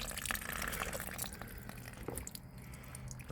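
Water gushes from an outdoor spigot in a steady, close splashing stream that softens slightly partway through, with no one speaking over it.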